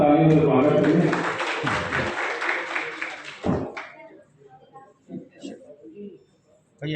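An audience at a community Diwali gathering applauds to welcome a singer, the clapping loud for a few seconds, then fading into scattered sounds and quiet murmurs.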